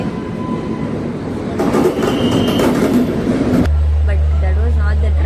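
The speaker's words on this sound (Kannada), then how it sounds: "ಫೈನಲಿ ನಮ್ಮ ಟ್ರೈನ್ ಬಂದಿದೆ" A train pulls into a station platform, its rumble and wheel clatter building loud and close, with people talking over it and a low steady engine hum near the end.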